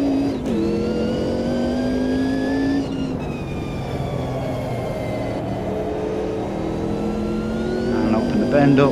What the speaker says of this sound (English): off the throttle, roll back on the throttle, open it up a bit and snatch fourth out to top